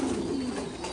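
Pigeons coo steadily on a Vietnamese pigeon farm, low murmuring calls layered close together in a continuous chorus with no talk.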